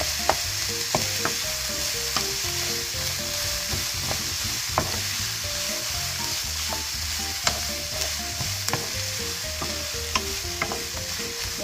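Binagoongan with pork and eggplant frying in a pan, a continuous sizzle under repeated clinks and scrapes of a spoon stirring, steady and close, with no talking.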